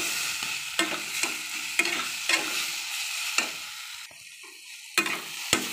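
Ash gourd jhal with fried kalai dal fries in a pan, a continuous sizzle broken by repeated spatula scrapes and knocks in an uneven rhythm, close and alone.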